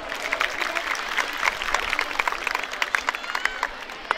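A seated audience claps at a Republic Day celebration in Amreli, a dense steady patter of many hands that carries on for several seconds with scattered louder claps.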